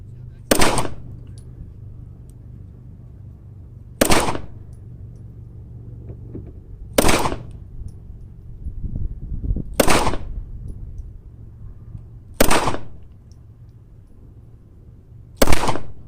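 A Taurus Spectrum pistol fired six times outdoors, loud sharp single shots spaced about three seconds apart, with quiet background noise between them.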